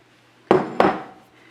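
Chopped walnuts drop into a baking pan greased with non-stick spray for brownies, making two quick, close clattering hits a fraction of a second apart that trail off into quiet.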